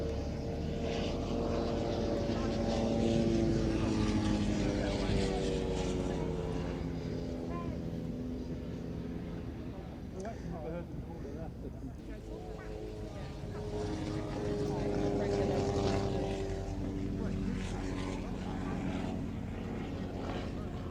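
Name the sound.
Nieuport 23 biplane aircraft flying at air show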